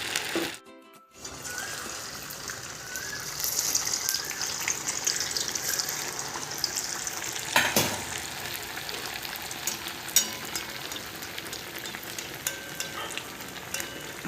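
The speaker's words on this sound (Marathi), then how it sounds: "मस्त असे वडे आता छान तळून घेऊयात आपण ते" Sabudana vadas deep frying in hot oil, a steady close sizzle and bubbling crackle that continues throughout, with a brief drop near the start and occasional louder pops.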